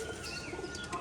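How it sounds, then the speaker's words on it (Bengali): A young pair of Rajshahi pigeons coo softly while being caught, a faint, brief low warble in a busy loft. "দেখুন পায়রা ধরা হচ্ছে। এক জোড়া রাজশাহীর বাচ্চা।"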